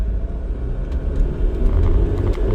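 A 2007 Kia Sorento 2.5 CRDI diesel with a lack of power off the line, accelerating at full throttle: a deep, rising engine rumble building steadily inside the cabin, fairly loud, with no talking.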